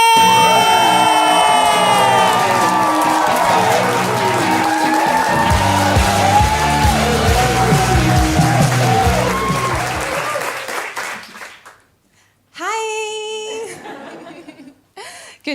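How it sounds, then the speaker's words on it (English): A live comedy show audience applauds loudly, with cheers, whoops and laughter, as comedian Aurelia St. Clair is welcomed to the stage; the clapping holds for about ten seconds and then fades out, followed by a brief burst of crowd noise. "please make some noise, clap your hands, stomp your feet, and welcome to stage the amazing Aurelia St."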